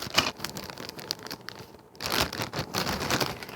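Crinkling and rustling of a plastic Ziploc bag being handled and opened, close up, in uneven bursts with a louder stretch of crackling toward the end, no voices.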